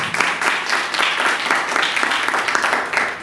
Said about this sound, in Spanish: Aplaudirle más al Señor